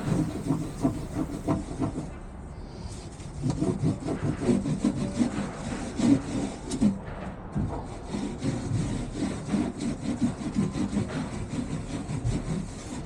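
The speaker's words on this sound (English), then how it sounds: "I'm gonna do my part here and clean it so Ray isn't sitting in greasy, grimy sludge later" Steady scrubbing and rubbing inside a greasy boat generator compartment on a catamaran, a continuous mid-level brushing texture with rhythmic strokes throughout, no voices.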